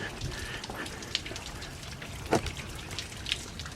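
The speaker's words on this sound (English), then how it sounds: "After a good rain, here's some seasonal waterfalls here." A small seasonal waterfall flows after rain at Balanced Rock on a nature preserve in Madison, Alabama, making a steady close splashing and trickling hiss with a few sharper drips.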